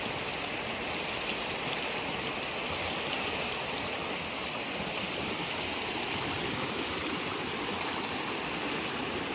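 Flood water rushing after a brief heavy rainstorm, a dense, steady roar that never lets up, loud and close, with no voices.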